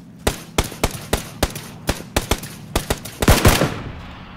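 Repeated gunshots ring out in a video game firefight, about a dozen sharp cracks at irregular intervals, ending in a denser, louder burst of rapid fire.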